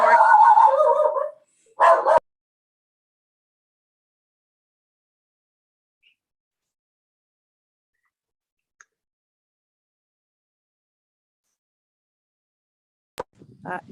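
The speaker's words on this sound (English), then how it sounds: "So if you hear the dog bark, I apologize." A house dog barks at passersby on the street, two short bursts of barking near the start, then long silence with a faint yelp near the end.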